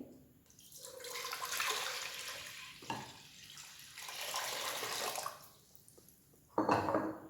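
Water is poured from a tap into an empty cooking pot for fresh plum juice, a rushing splash that swells and fades in several bursts with a louder final gush, close and without speech.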